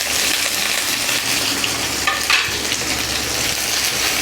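Sliced onions, green chillies and curry leaves sauté in hot oil for a tomato kurma, giving a steady, close, loud sizzle with a few brief stirring clinks and no talking.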